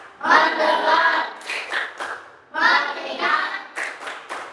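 A group claps the rhythmic Indonesian "tepuk fokus" clapping routine in a classroom, two bursts of fast, fairly loud patterned claps separated by a short pause, with a few sharper taps at the end.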